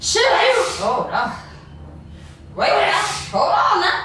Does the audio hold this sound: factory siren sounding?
no